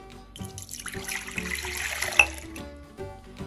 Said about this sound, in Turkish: Öncesinde yoğurma kabına 1 su bardağı ılık su ve 1 su bardağı ılık süt alıyorum.